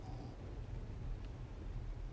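Thunder rumbling from a lightning strike in the game Ark: Survival Evolved, Ragnarok map, a low continuous roar with rain-like hiss, steady and moderately loud throughout with no talk.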